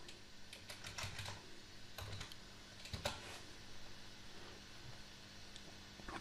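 Quiet typing on a computer keyboard, a soft run of light keystroke clicks in uneven clusters against faint background noise.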